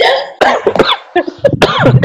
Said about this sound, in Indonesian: Oh, sampai batuk gitu.